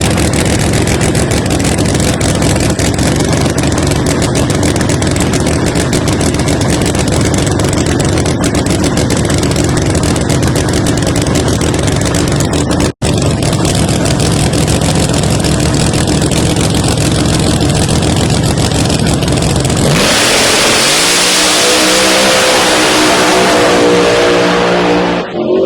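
A Pro Mod drag race car doing a burnout at a motorsports park, a loud sustained engine roar with tire spin for about twenty seconds, then a sharp rev change as the revs climb and fall near the end.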